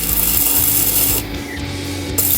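Arc welding rod scratched against the metal to strike an arc, a close, steady rasping scrape with crackle that runs unbroken for a couple of seconds, with no voices.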